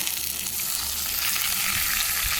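Curry leaves, urad dal, garlic and fenugreek crackle and sizzle in hot oil during tempering for a fish curry, a dense, steady frying hiss, close and loud throughout with no talking.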